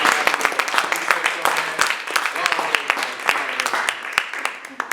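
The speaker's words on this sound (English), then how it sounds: "please give her a round of applause" Crowd applause at an independent artist network mix-and-mingle event, dense claps running steadily through the whole stretch with scattered sharper individual claps standing out.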